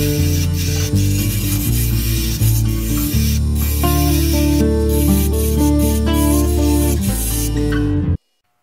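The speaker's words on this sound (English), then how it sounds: "we're going to try this here, this round nose scraper. We're going to clean up this area here" A round nose scraper cuts along a spinning wooden goblet on a lathe, producing a loud, continuous hissing scrape over the motor's low hum until everything stops abruptly.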